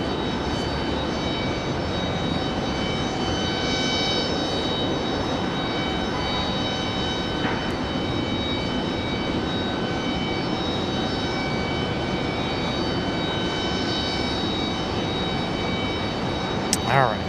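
A JetBlue jet airliner holds at the end of the runway at Raleigh-Durham International, its engines a steady, loud broadband roar that never lets up, with a faint thin whine riding on top.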